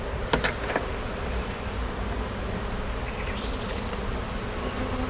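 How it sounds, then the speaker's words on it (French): A dense, continuous buzz of many honeybees swarms close by around an open, smoked hive during a spring inspection, steady and loud, with a couple of faint clicks near the start. "On en fume très régulièrement, sinon les abeilles remontent."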